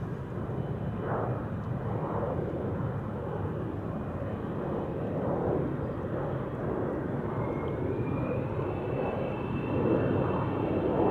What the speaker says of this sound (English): this is probably not going to be long before it's going to take off